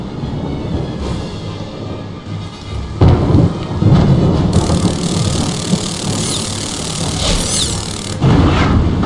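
Heavy rain pours steadily while thunder rumbles and cracks in loud rolling bursts, a stormy scene from the Harry Potter and the Prisoner of Azkaban video game, no voices.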